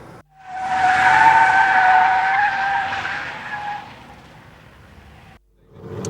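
A race car's tires screech loudly in a long sideways skid at a racing school, the squeal swelling then fading out, with engine noise returning at the end.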